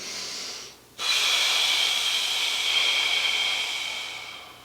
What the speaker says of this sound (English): Again, what are we doing? We're breathing.